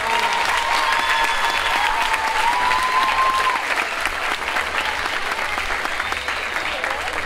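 An audience at the proclamation ceremony for Anglès' hereu and pubilla gives loud, sustained applause that fills the room throughout, a few voices and whistles rising above the dense clapping.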